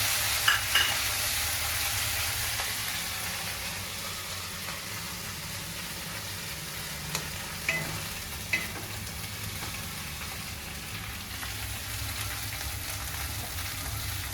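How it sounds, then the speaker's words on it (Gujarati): Green chili chutney frying and being stirred slowly in a pan, a steady low sizzle running throughout with a few faint scraping clicks, close and alone without talk. "ચટણી બ્રાઉન થાય ત્યાં લગીને આપણે હલાવતા રહીશું ધીમે ધીમે."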